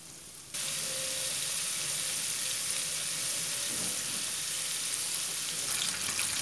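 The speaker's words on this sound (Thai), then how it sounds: "ใส่ไก่ลงไปทอดเลยครับ ใช้ไฟกลางนะครับ" Chicken pieces drop into hot oil over medium heat for Thai salt-and-chili fried chicken, setting off a sudden, steady, loud sizzle that continues without a break.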